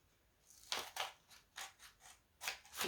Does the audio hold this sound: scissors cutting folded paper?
yes